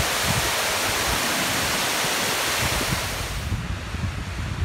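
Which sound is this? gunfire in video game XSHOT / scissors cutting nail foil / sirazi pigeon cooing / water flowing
water flowing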